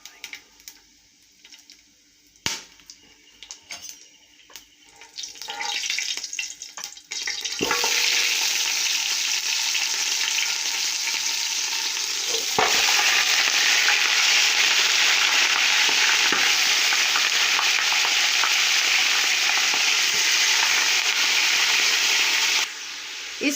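Spices and beef hooves (paya) fry in hot oil, starting with quiet scattered clicks, then turning into a loud, steady sizzle that swells further around twelve seconds and holds until a sudden drop near the end.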